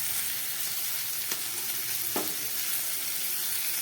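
Onion, tomato and ginger paste sizzle steadily in a hot pan, a continuous bright frying hiss with a couple of brief stirring scrapes, close and alone without talk.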